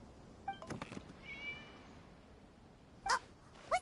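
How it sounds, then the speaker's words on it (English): A cat in the Genshin Impact video game meows in a few short, faint calls spread across a quiet scene, with a soft tonal chime passing in between. "It was just a cat."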